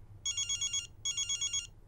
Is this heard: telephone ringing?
yes